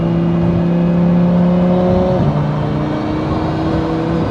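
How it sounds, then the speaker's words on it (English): An 1100hp twin-turbo V10 Lamborghini Huracan with Garrett GT35 turbos, built by JM-Imports, pulls hard up close: a loud, steady engine drone with a rising whine that drops pitch sharply midway as the revs shift, then climbs again. "hear them turbos, boy."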